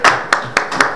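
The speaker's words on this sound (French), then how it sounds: "j'aimerais que vous applaudissiez pour cette grande dame." A few loud, sharp hand claps from an audience, four distinct strikes spaced unevenly across about a second, close and isolated rather than a full ovation.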